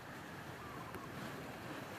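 Sea waves wash against a beach, heard as a constant faint broadband rush with wind noise across the whole stretch and no voices.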